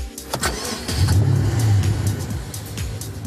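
A 2012 BMW 650i petrol engine starting up and revving, close and loud: a short starter catch, then a rising rev that holds and falls back to a rumbling idle, with no talking.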